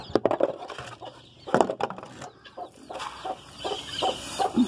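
Chickens clucking close by in a backyard coop during feeding, irregular bursts of clucks and short calls with quieter gaps between.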